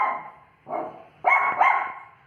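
A dog barks in short, close, loud bursts at a pigeon it cannot reach, giving about four agitated barks in quick succession.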